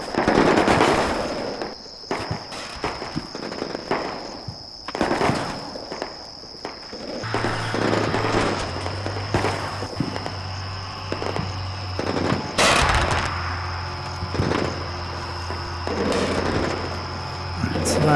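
Machine gun fire in the Combat Mission Shock Force war game, with German mountain troops fighting Syrian special forces: loud bursts and scattered shots over a steady battlefield din, one heavy crack near the middle.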